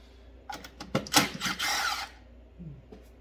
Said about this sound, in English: So we're gonna take these 10 millimeter bolts out.